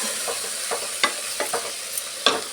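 Cooked double beans get stirred into frying masala for a vegetable pulao: a low sizzle runs underneath while a spoon scrapes and taps the pan in several distinct strokes, close and moderately loud, with no talk.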